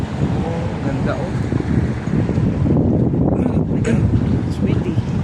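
Gusty wind buffeting a microphone on a downtown Toronto street near Grange Park, a loud continuous rumbling roar that swells midway, with a voice speaking briefly under it.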